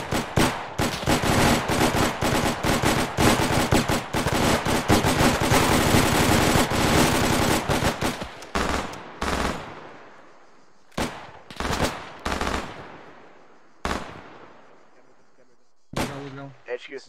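Heavy, sustained automatic gunfire erupts up close as an enemy patrol of three or four is engaged in a military shooter game. After the long, dense burst comes a string of separate booming shots, each with a ringing echo.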